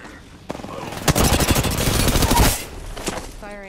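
Rapid automatic gunfire in a battle royale video game rattles off in a dense, loud close burst lasting over a second, with a few trailing shots and a short electronic chirp at the end.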